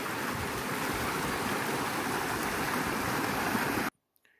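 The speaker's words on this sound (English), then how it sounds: "Cute little creek." Small mountain creek flowing near snowy ski runs in July on the Oregon Timber Trail, a steady close broadband rush of water with no voices, cutting off abruptly near the end.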